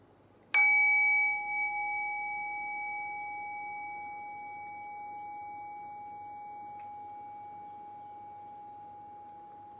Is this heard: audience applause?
no